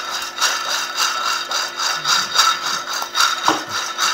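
Robusta coffee beans roast in a pan and pop through first crack, giving a steady dry crackling and rustling with scattered sharp snaps, close up and with no voices.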